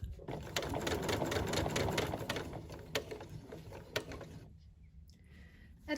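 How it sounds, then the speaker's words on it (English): A domestic sewing machine stitches a trouser seam in a steady, fast mechanical whir with a rhythmic needle clatter. It slows and stops toward the end, close up, with faint bird cooing in the background. "put your presser foot down, and then just carry on sewing."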